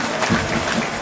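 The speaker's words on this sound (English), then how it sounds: "They're all applauding Australia right now." Brief burst of applause from spectators and the team bench at a women's para ice hockey game, a dense patter of clapping in a rink.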